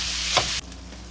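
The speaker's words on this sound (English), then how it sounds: "I'm going to let this cook, stirring it once in a while until the meat has browned" Ground meat with garlic sizzles steadily in a pan while it browns, a loud close hiss that breaks off abruptly about halfway through, leaving only quiet room noise.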